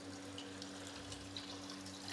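Water pouring steadily from a kettle into a pot of beef for nihari, a soft continuous trickling splash close by with no talking.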